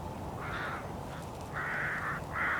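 Rook cawing in open sheep country, three harsh calls in a loose series, the first shorter and the last two drawn out, moderately close over a steady low outdoor rumble with no talk.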